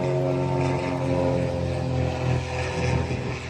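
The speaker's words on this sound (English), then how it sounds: "Oh, plane going overhead." Propeller aircraft passing overhead on a rural island back road, a steady droning engine hum with strong tonal layers, loud and constant throughout with no voices over it.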